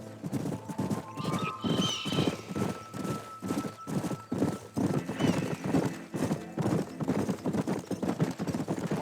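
Horses trotting in the video game Red Dead Redemption, with rhythmic hoof clip-clops on the ground, several horses moving together close by, and a neigh rising partway through.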